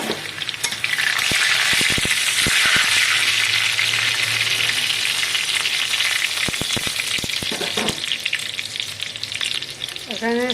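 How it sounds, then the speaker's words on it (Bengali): Garlic hits hot oil in a pan for a dal tempering, giving a loud, continuous close sizzle and crackle with scattered sharp pops and some stirring throughout. "এখানে আমি রসুন দিয়ে দিচ্ছি।"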